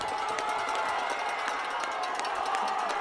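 High school football crowd at Pekin vs. Lake Zurich cheering as the Bears go for a two-point try, a steady roar of voices and clapping with faint rhythmic claps, continuous and fairly loud.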